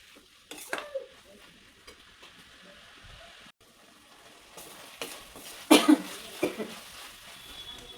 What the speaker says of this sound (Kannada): ಈಗ ಚೆನ್ನಾಗಿ ಫ್ರೈ ಆಗೋವರೆಗೂ ಇದನ್ನ ಸ್ವಲ್ಪ ಕಲಿಸ್ಕೊತಾ ಇರಬೇಕು